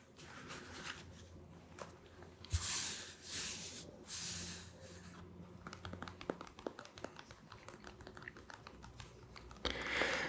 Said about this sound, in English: Why do I tap on my notebook so much?